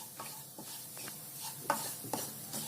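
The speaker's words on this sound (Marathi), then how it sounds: "म्हणजे छान खमंग भाजलं जातो रवा" Semolina roasting in ghee in a pan, with soft continuous stirring and scraping, a faint sizzle, and a couple of light spoon clinks against the pan.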